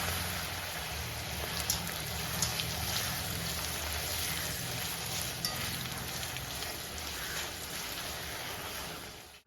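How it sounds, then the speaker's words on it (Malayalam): Papadam frying in hot oil while making a Kerala-style chammanthi gives a steady, close crackling sizzle with scattered pops, continuous throughout and free of talk. "എണ്ണ നന്നായിട്ട് ചൂടായി വന്നിട്ടുണ്ട് നമുക്ക് പപ്പടം കുറേശ്ശെ ഇട്ട് വറുത്തെടുക്കാം"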